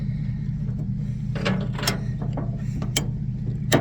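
A tie-down strap ratchet is flipped and cranked tight while loading equipment, giving several sharp, close clicking bursts over a low steady hum.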